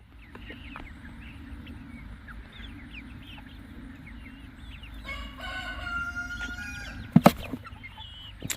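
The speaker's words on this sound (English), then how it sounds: "So y'all probably going to hear him crowing a bunch in this video." A Wyandotte rooster crows once, a drawn-out call over a low outdoor rumble with faint bird calls, followed by a couple of sharp knocks.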